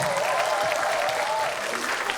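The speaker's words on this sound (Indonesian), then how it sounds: "Tepuk tangannya lebih serius, lebih meriah lagi" Applause from an audience at a website's soft launch event as a content creator is called up, a brief continuous clatter of many hands with a host's voice running over it.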